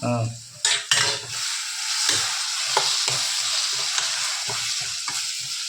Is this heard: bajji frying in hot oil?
yes